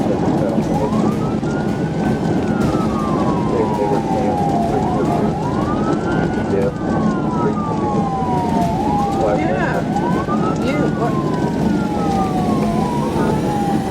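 A loud police car siren wails continuously during a high-speed chase at about 70 mph, its pitch sweeping up and down in repeated cycles over steady road noise.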